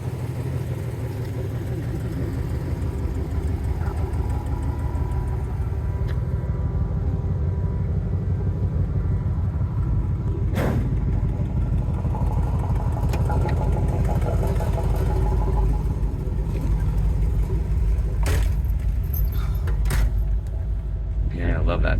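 A 1949 Oldsmobile Rocket 88 hotrod with a 409 engine, dual quads and side pipes rumbles steadily as it cruises around the block, its low engine drone continuous and close, with occasional clicks and rattles.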